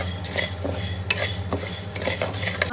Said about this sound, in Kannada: ಅದೇ ಬಾಣಲೆಗೆ ಗೋಧಿನ ಹಾಕೊಂಡು ಹುರ್ಕೋಬೇಕು